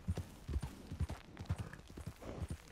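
Horse hooves clip-clop steadily in the Red Dead Online video game, a close, even rhythm of hoofbeats at walking pace that runs without pause, with a faint voice passing briefly underneath.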